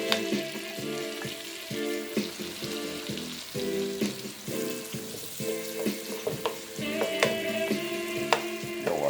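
Red onions and green scallions frying in butter in a pot, a steady soft sizzle with light stirring clatter throughout, no voices.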